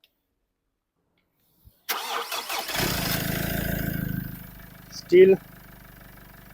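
A Mitsubishi Outlander diesel engine, fresh from DPF cleaning, cranks and catches, then settles into a steady, close idle for a few seconds, followed by a short loud burst and a brief spoken word.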